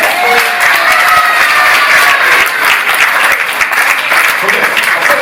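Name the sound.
wedding guests applauding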